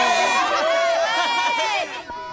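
A studio audience at a street-football game show cheers for an applause-meter bonus, a loud, continuous wave of overlapping shouting voices that dips briefly near the end.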